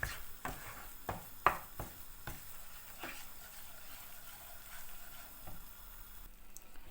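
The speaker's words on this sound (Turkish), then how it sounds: "Sürekli karıştırıyorum bu arada." Flour halva being stirred in a pan, with a few sharp scraping knocks early on, then a steady, quiet sizzle of frying beneath, no voices.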